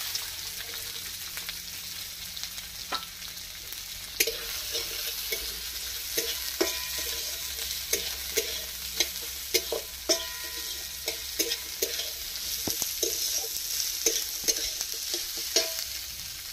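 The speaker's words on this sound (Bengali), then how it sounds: "এই তেলের সঙ্গে পেঁয়াজ কুচি দিয়ে দিলাম।" Chopped onion sizzles steadily in hot oil in a wok, with repeated sharp clacks of a spatula stirring throughout; close and fairly loud, with no talking.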